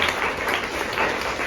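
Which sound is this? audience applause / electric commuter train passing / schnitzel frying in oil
audience applause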